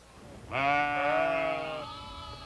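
A single long, wavering bleat from a sheep or goat at a Tangut nomad camp, close and clear above a quiet outdoor background.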